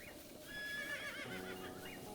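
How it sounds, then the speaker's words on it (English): In Breath of the Wild, a horse gives a brief whinny that rises and wavers, with soft hoofbeats clopping underneath against quiet game ambience. "Alright, come on, horsey."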